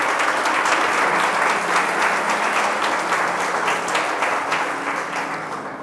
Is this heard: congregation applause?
yes